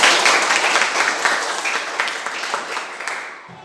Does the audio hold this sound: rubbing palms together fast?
no